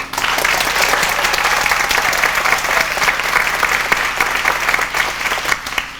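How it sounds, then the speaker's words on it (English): A theater audience applauds loudly at a community stage performance of The Mystery of Edwin Drood, a dense, sustained burst of clapping from a crowd that holds steady for six seconds before tapering slightly. "Pray indicate by your applause."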